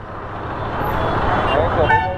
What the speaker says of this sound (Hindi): ट्रैफिक कितना है, बहुत ट्रैफिक है।